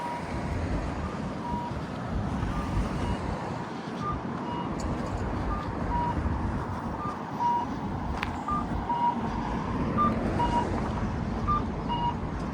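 Steady electronic beeps from a pedestrian crossing signal in Matsue, Japan repeat at an even pace over loud street traffic noise, continuing for several seconds.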